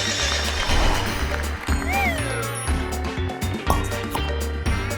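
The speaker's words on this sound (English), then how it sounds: "It's a horse." A horse in a farm animals puzzle game gives a loud, close whinny with a rising then falling cry, over game music and a few hoof-like clops.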